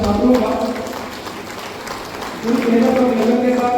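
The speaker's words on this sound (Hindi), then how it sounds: "एक बार जोरदार तालियों से स्वागत करें हमारे मेधावी छात्रों का" Applause from an audience at a youth gathering in Jashpur, a steady patter of clapping that swells near the end, mixed with voices and a hall announcer talking over it.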